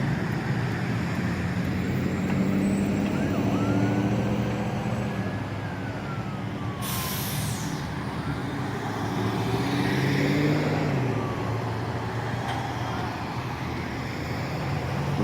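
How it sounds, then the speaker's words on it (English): Steady roar of road traffic, cars and trucks streaming past close by with a continuous broadband rush, one brief hissing burst midway, and no talking. "Nothing else to see here, but just a bunch of traffic"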